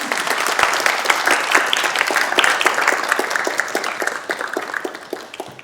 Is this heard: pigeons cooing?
no